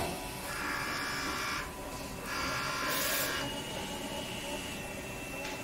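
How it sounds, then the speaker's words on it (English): An industrial Nebula-35F DTF printer prints a picture, giving a steady mechanical hum broken by brighter whirring sweeps as the print carriage moves back and forth, heard up close and on its own. "then the printer starts to print a picture out"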